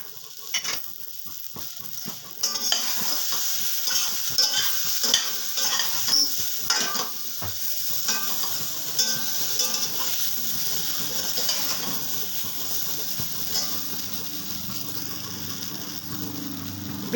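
Brinjal sautéing with Kashmiri red chilli powder and spices in a pan for a katla fish curry, a continuous close sizzle with frequent clicking, scraping strokes of a spatula stirring, busier at first and then settling into steady frying.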